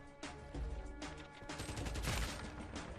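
M4A4 rifle fire in an online shooter game, with quiet bursts of rapid automatic shots crackling over a couple of seconds and no talk.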